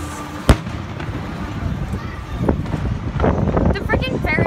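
Fireworks bursting over a fairground, heard from a Ferris wheel: one sharp close bang followed by a steady crackle and scattered pops over windy background noise, with distant voices.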